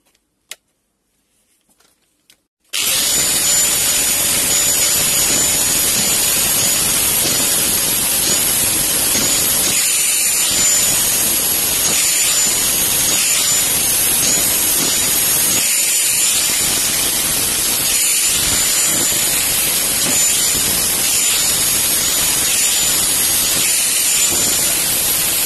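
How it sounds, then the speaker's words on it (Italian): An angle grinder cleans up a cracked, welded metal timing-belt pulley, starting after a few faint knocks and then running as a loud, continuous high-pitched whine and hiss at close range. "Gli diamo una pulitina col flessibile."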